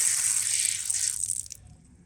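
Water gushes and sprays from a newly installed four-zone garden spigot manifold, a loud steady hiss for about a second and a half before cutting off abruptly, leaving a quiet low background.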